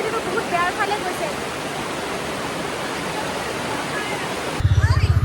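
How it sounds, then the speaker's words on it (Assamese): Floodwater rushes like a river after heavy rain and a storm, a loud, dense, continuous roar close by, with faint voices and a rhythmic low rumble breaking in at the end. "বৰষুণ এৰিলে আৰু চাওক পুৰা নদী হৈ গৈছে"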